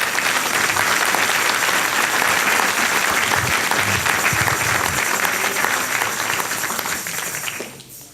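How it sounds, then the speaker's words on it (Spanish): A church congregation breaks into loud, dense applause that holds steady for several seconds and then fades near the end. "¿Usted no cree que eso merece un aplauso?"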